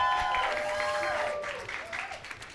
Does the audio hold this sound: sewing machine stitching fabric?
no